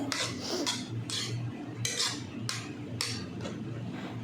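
A spoon stirring pizza sauce in a pan, with repeated scraping strokes against the metal in a steady back-and-forth rhythm, close and moderately quiet, no talking.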